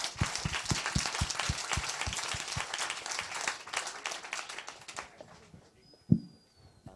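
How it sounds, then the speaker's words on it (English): An audience claps for panelists at a startup award launch party, a steady round of sharp, fairly close handclaps that fades out after about five seconds, followed by a brief thump. "Can we have a round of applause for all of our panelists?"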